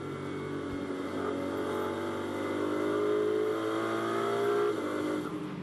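Onboard engine of a Ferrari GT race car lapping Snetterton during a British GT warm-up session, a loud, steady engine drone with rising pitch as it pulls through the corner, close and continuous with no talk.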